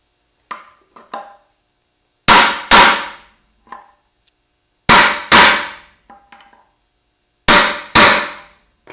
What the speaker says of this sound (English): give it a few taps with the hammer